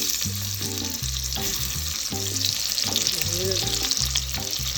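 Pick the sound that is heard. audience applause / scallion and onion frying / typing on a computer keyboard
scallion and onion frying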